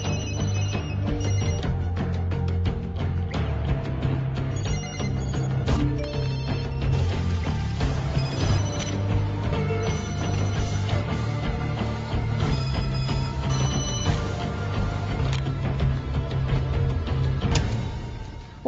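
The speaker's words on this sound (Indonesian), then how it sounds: "dikirim ke setiap nomor telepon para pembunuh bayaran di seluruh wilayah Amerika hingga membuat Winston dan resepsionisnya terkejut" Many mobile phones ring together in a tense action film scene, a loud, dense, continuous chorus of overlapping electronic ringtones.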